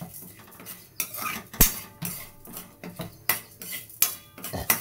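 Moong lentils dry-roasting in a pan on medium-low heat, stirred with a spoon: repeated metallic scrapes and clinks against the pan in an uneven rhythm, close and fairly loud, with no talking.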